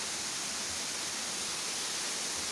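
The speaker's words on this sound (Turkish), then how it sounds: "yavaş yavaş şelaleye iniyoruz yaklaştık" Güzeldere Waterfall roars as a steady, dense rush of falling water, loud and unbroken throughout with no other sounds.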